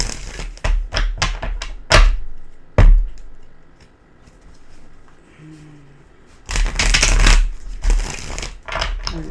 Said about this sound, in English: All right, one more shuffle, please.